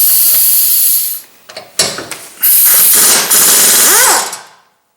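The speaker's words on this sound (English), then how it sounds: "Remove the hub retaining bolts with a 12mm 12-point socket." A 2007 VW Jetta's front hub retaining bolts being removed with a 12mm 12-point socket, heard as a loud, close pneumatic hiss and hammering burst that pauses briefly, resumes, then winds down and stops.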